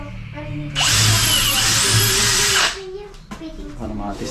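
A power drill drives a screw into a wooden table, one loud steady burst of whirring lasting about two seconds, with a voice and other talk around it before and after.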